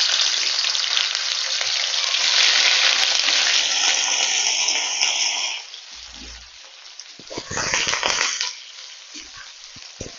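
Cubes of paneer dropped into smoking-hot oil set off a loud, steady sizzle that fades after a few seconds, then surges again briefly as the pieces are stirred, with faint clinks of utensils.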